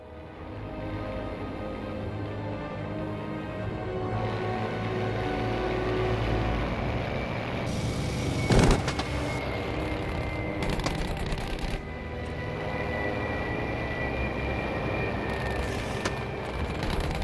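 Bf 109 fighter plane engine in the video game Battlefield V, a steady droning propeller-engine hum with a sustained tone, continuous and fairly close, with a brief sharp burst partway through.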